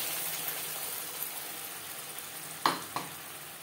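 Spice paste fries in a spoonful of mustard oil in a wok, a soft continuous sizzle with two brief sharper spits near the end, close but fairly quiet, no voices.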